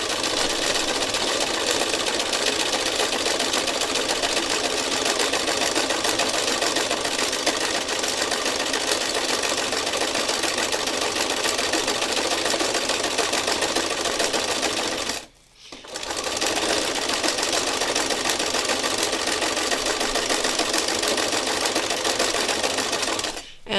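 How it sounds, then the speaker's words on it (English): A sewing machine running random stitching, a fast steady mechanical whir and clatter, close and loud, continuous for about fifteen seconds, briefly pausing, then resuming just as steadily until the end. "And so I'm just doing some kind of random stitching."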